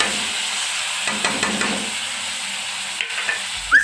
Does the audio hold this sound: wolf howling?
no